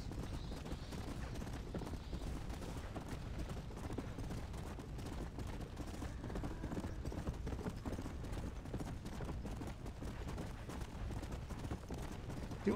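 Horse hooves clip-clopping at a steady pace while riding in Red Dead Redemption's zombie mode, continuous rhythmic hoofbeats with faint game sounds behind, fairly quiet.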